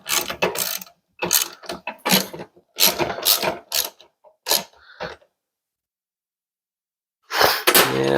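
An acorn nut is tightened onto a Bauer dust collector assembly, giving a series of close, sharp ratcheting clicks and creaks in short bursts, a long pause, then one more burst.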